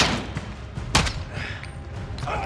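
Gunfire in Call of Duty: Modern Warfare (2019) cracks in scattered shots. One sharp, loud blast stands out mid-clip amid rumbling battle noise.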